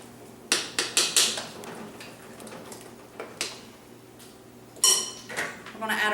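Eggs being cracked against a bowl: a quick series of four or five sharp taps up close, then scattered clinks and a louder crack with some shell rattle, in a quiet room.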